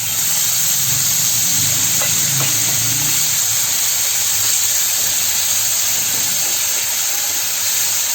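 A handful of cloves temper in hot oil in a pan, making a constant close hiss and sizzle with a faint low rumble and a few soft clinks early on.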